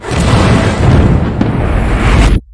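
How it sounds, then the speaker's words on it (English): A guided missile detonates in a massive film explosion, a loud, deep, rumbling blast that roars for about two seconds and then cuts off abruptly into silence. "a guided missile reaches him and causes a massive explosion"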